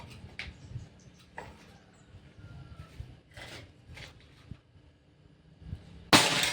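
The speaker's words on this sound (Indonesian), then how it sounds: "Oke, ini tembakan ketiga." A single sharp crack from a Predator Pajero Gun Gen 6 air rifle near the end, fired during an accuracy test, after a stretch of quiet background rustling and faint handling sounds.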